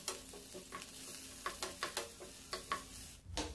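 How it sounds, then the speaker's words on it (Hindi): Dry fruits being lightly roasted in a pan for a shahi samosa filling. A soft, steady sizzle runs underneath faint scraping strokes that come every half second or so, and no one talks. "थोड़े से ये ड्राई फ्रूट्स हैं, इनको भी हल्का सा रोस्ट कर लेंगे"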